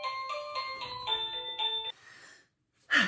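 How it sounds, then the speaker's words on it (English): A household doorbell plays a bright multi-note chime close by, several tones ringing and sustaining before fading into quiet, followed by a short sharp rustle. "The doorbell rang"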